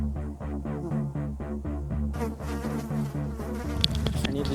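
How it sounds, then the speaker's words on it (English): A bee or wasp buzzes steadily and loudly close by, a continuous droning hum that shifts in pitch partway through as it moves. "I need this bee to disappear."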